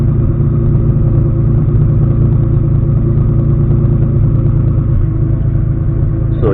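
Engine running on its first start, tuned with TunerStudio, heard as a loud, steady close-up drone with an even low rumble throughout and a sharp change right at the end.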